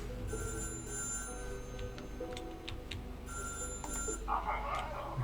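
A telephone rings in the factory-building game Little Big Workshop, a bright electronic double-trill repeating in short bursts over a low hum of game background sounds.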